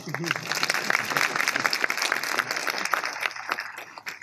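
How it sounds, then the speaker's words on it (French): Audience at a tech conference keynote clapping, a moderate, fairly dense round of applause with distinct individual claps, while a presenter's voice briefly rises over it at the start. "Vous pouvez l'applaudir, porte-micro."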